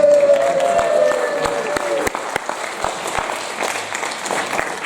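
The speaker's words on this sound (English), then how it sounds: "No need to clap." An audience claps steadily for about five seconds, with sharp individual claps standing out from the dense, fairly loud wash of applause.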